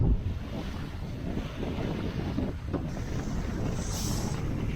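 A sailboat moves through wind and choppy waves off Baja Mexico, with steady loud wind buffeting the microphone and water rushing along the hull, and no voices.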